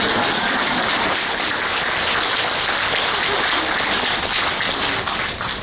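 Steady, dense applause from a congregation at a Catholic Mass gathering, many hands clapping continuously at an even level throughout.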